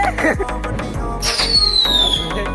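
Cheap Diwali firecrackers going off outdoors during a family celebration: repeated sharp pops and crackles with a rising whistling rocket streak, loud and busy throughout, with some background voices.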